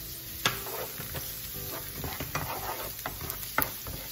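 Garlic sizzling in a hot pan for a beef and green bean stir-fry, a steady close crackle broken by a few sharp clicks of a utensil stirring, with no talk.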